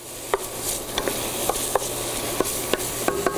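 Onions are stirred in a cooking pot, with a steady soft sizzle under repeated light clinks of a spoon against the pot at an uneven rhythm, close by and with no talking.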